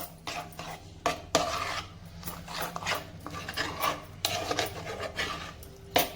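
Spoon stirring ground mustard and fenugreek powder into a thick tamarind pickle, a close, repeated scraping and rubbing against the bowl in uneven strokes with no talk.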